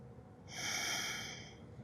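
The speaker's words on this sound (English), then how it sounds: "Breathe." A single long, breathy exhale in a yoga class, soft and close, swelling and then fading over about a second against quiet room tone.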